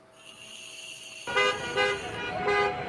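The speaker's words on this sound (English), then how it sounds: "Honk, honk, honk, honk, honk, honk," A car horn honking, first a faint steady tone, then several louder toots that rise and fall in sequence, heard alone without talking.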